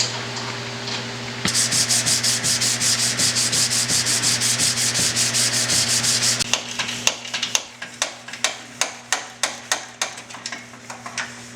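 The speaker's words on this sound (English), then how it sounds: "We're going to hit them with some high grit sandpapers" Car headlight lenses on a BMW E36 being sanded with high-grit sandpaper: a fast, steady scratching rub at first, then separate rhythmic strokes that get slower and more spaced out, all close to the microphone.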